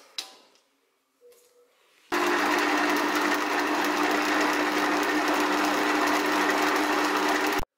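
Kitchen stand mixer kneading flour, semolina and yeast for Apulian focaccia dough, starting abruptly after a quiet moment and running as a loud, steady motor whir with a rhythmic mechanical rattle until it cuts off.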